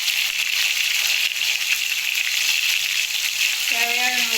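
Tomato and salt sizzling in hot oil for vendhaya kulambu, a loud, steady, dense frying hiss that continues without a break, with a brief voice at the very end.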